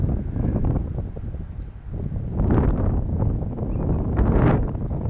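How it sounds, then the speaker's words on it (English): Strong gusty wind batters the microphone outdoors on a blustery day with a small drone flying low. A continuous loud rumbling roar swells and surges throughout, with no voices. "It did not seem like it was going to be this windy when I got out here."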